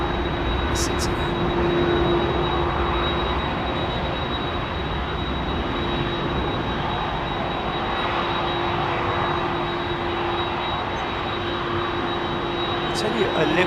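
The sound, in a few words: airliner jet engines at London Heathrow Airport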